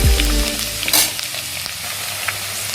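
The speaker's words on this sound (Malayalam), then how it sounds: "ഇഞ്ചി മൂത്ത് വെളുത്തുള്ളി ഇട്ട് കൊടുക്കണം." Ginger and garlic fry in a pan for a homemade pickle, a loud burst of sizzle at the start settling into steady crackling, with a couple of stirring scrapes.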